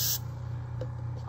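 A short, sharp hiss of air bursts from an airbrush gun, then cuts off, leaving a steady low hum running underneath.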